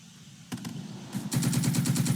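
Rapid gunfire bursts in the war game Second Front: a short volley of shots, a brief pause, then a sustained automatic rattle of evenly spaced rounds, loud and close.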